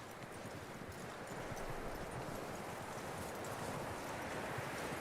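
Steady rhythmic hoofbeats clip-clop over a constant wash of ambient noise in the video game Red Dead Redemption 2, like a horse moving at a walk or trot nearby, with no talking.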